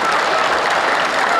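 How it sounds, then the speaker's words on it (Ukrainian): Dense, steady applause from an outdoor crowd greeting a parachutist's tandem landing, loud and continuous for the whole moment. "Аплодируем."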